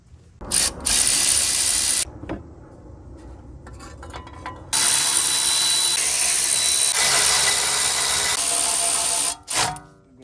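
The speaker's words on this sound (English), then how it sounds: "Torque this with the impact." An impact wrench torques the wheel hub bolts on a 2016-era Audi S6 (C7.5) during a wheel bearing replacement, with two long loud rattling bursts, short blips and pauses between them, close by.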